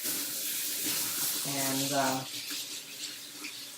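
Hands stained with beet juice are rinsed under a running water tap, a steady broadband wash of water flowing throughout, with a brief spoken word over it midway.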